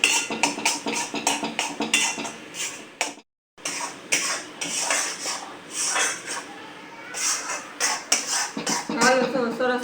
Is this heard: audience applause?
no